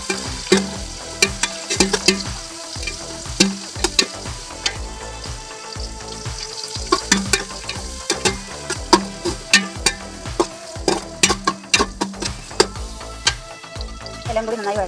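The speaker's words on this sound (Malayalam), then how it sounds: "എല്ലാം കൂടി നന്നായി വഴണ്ടി വരട്ടെ." Beef biryani masala with mint sautéing in a pan: a steady, close sizzle punctuated by frequent sharp clinks and scrapes of a spoon stirring against the pan.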